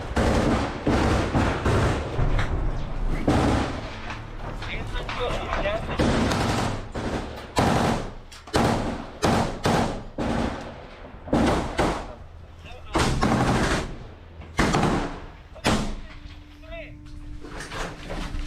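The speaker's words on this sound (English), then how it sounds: "He's taking seriously good aim shots." Rifle fire from soldiers in combat at Avdiivka rings out in loud, sharp bursts and single shots, spaced irregularly across the scene, with talking over and between the shots.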